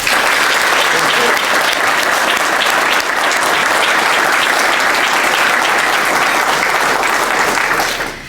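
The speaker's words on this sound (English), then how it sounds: "please join me in a round of applause for President Nora Miller" Sustained applause from a large audience at a retirement ceremony honoring President Nora Miller, dense and loud, holding steady for several seconds before tapering slightly at the end.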